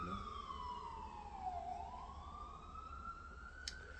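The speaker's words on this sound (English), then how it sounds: "In Brooklyn, New York, sirens is always going off." A wailing emergency siren in Brooklyn, New York sweeps down then rises again, distant and steady against a low background rumble of city traffic.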